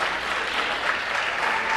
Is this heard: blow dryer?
no